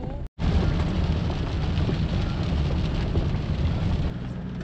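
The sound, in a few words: rain falling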